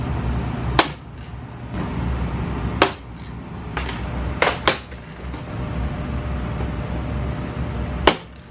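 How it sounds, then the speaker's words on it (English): Pop rivets set one at a time through plexiglass on a homemade 12-volt incubator, several sharp separate snaps spaced unevenly over a steady background hiss, close and fairly loud. "Put the rivets in, make sure everything lines up, goosh it down really good, and then pop those rivets down."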